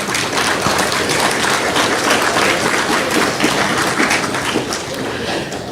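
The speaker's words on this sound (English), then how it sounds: "I've never been given an applause before." An audience at a Let's Talk Alberta event in Spruce Grove applauds in a dense, sustained burst of many hands that holds steady, then tapers slightly near the end.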